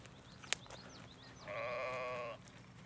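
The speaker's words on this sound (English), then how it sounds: "And there's some more sheep." Sheep bleat in a field, one clear, wavering bleat standing out at moderate distance amid fainter calls and quiet outdoor ambience.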